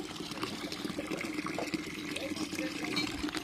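Water runs steadily from a tap at home during preparations for a festive day, a continuous splashing flow with faint voices in the background.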